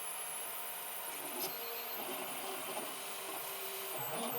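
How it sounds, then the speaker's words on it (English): 3D printer printing ABS at 235 on the nozzle and 110 on the heated bed, a faint continuous whir of stepper motors with shifting tones and small changes as the head moves. "I'm printing ABS with 235 on the nozzle there,"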